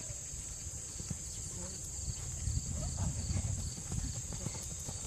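A horse trotting with a steady clip-clop rhythm of hooves, under a constant high insect-like hum, with faint voices in the background.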